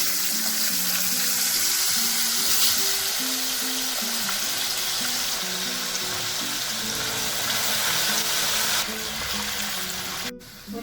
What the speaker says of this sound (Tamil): அடுத்து உருளைக்கிழங்கு பொரிக்கிறேன்.